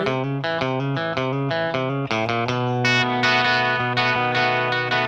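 A twangy electric guitar plays a busy, bass-line-like part from a song, with a steady run of picked notes followed by sustained, brighter chords, loud and close with effects and no talking.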